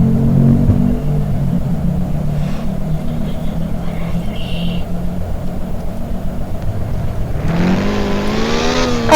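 A Porsche sports car engine idles with a steady low rumble, then revs up sharply near the end with a rising, loud roar up close.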